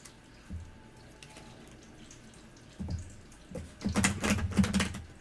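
Tarot cards are shuffled by hand, with a few soft riffles and taps, then a quick burst of louder, rapid flutters near the end, and no talking.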